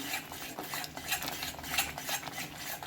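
Crushed cardamom is stirred into a thick ginger alepak mixture in a pan, a steady run of spoon scrapes and soft clinks against the metal, close and continuous with no talk.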